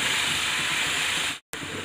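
A gas pressure cooker holding dal makhani and rice hisses steam loudly and steadily, a broad rushing sound that cuts out abruptly for a moment near the end, then resumes; no voices.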